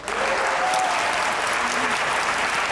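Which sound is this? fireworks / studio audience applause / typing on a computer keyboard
studio audience applause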